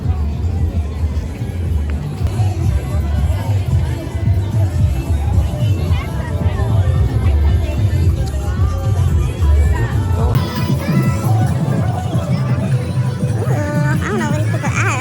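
A large crowd gathers outdoors at a July 4th fireworks event, a steady babble of many voices with close talking and passing vehicle rumble underneath, continuous throughout.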